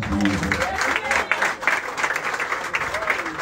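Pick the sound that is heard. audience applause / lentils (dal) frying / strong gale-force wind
audience applause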